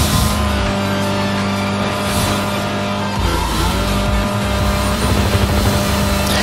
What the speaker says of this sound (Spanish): Estamos a toda velocidad aquí en las carreras de Rocket Racing de Fortnite.